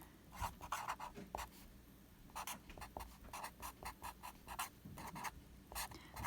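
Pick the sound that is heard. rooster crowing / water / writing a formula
writing a formula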